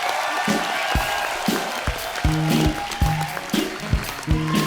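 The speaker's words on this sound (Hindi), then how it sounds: "मंच पे आ जाइए, जोरदार तालियों से एक बार स्वागत हो जाए।" Studio audience at a comedy show applauds a guest coming on stage, brisk crowd clapping with rhythmic beats and music-like tones underneath, building slightly louder midway.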